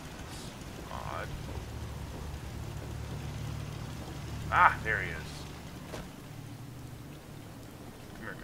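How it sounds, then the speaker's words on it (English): Steady rain falls in the Fallout 4 game world, a constant soft hiss with a low rumbling bed underneath, while someone speaks briefly over it. "Just thinking how wonderful it would be to get out of this infernal rain"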